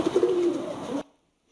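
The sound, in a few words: AI-generated sound effect of pigeons flying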